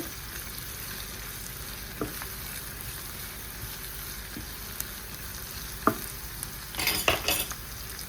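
Ginger-garlic paste and vegetables for capsicum egg curry fry in a pan with a soft, steady sizzle, broken by a few stirring clicks and a brief busier scrape near the end.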